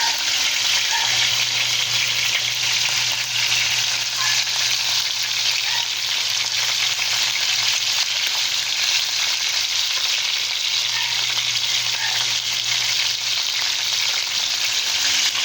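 Steady, continuous sizzling of moringa leaves frying in hot oil, loud and close, with a faint low hum underneath and no talking.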